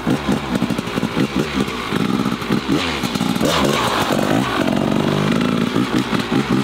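An enduro motorcycle engine runs close by, a loud buzzy rattle with uneven throttle blips and revs rising and falling throughout, with no talk over it.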